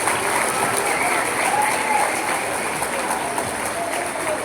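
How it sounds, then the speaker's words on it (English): A school auditorium audience at a middle school honors day applauds in a dense, steady wash of clapping. It stays loud and even for several seconds before easing slightly. "Please give them a round of applause"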